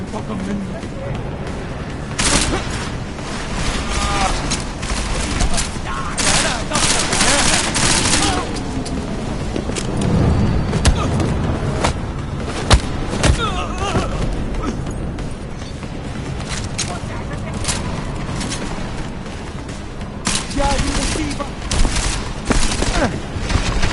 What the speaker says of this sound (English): Keep shooting at the door! Shoot the intruder!